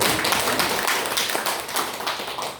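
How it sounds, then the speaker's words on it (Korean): A church congregation at a Sunday morning service claps together, a brief, fairly quiet burst of many hands patting in a rapid, uneven rhythm. "박수 한번 칩시다"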